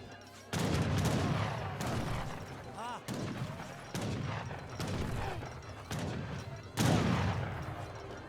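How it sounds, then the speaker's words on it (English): Gurkha units in the strategy game Age of Empires 3 firing guns in repeated volleys, several distinct bursts spread evenly across the battle, with a voice faintly under the shots. "Gurkha's, of course, firing away."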